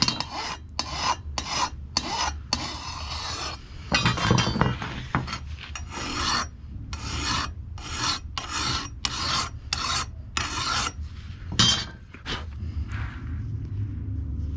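A hand file rasps back and forth across a steel lawn mower blade, sharpening its edge in a steady series of close, loud strokes with brief pauses between them, no talking.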